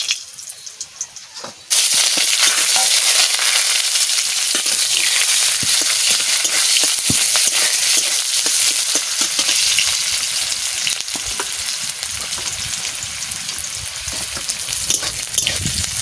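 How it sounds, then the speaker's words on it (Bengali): Dried red chillies and cumin hit hot oil, erupting into a loud, dense, continuous sizzle that holds steady close by, easing slightly toward the end, with no voices. "কটা শুকনো লঙ্কা দিয়ে দিচ্ছি"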